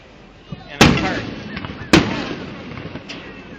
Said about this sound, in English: They probably really have phantom fireworks, especially like the biggest fireworks.